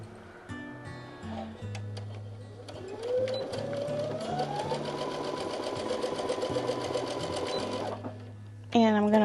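A sewing machine chain pieces fabric, its needle running in a fast steady whirring rattle that ramps up and holds for several seconds, close by, while a person talks over it.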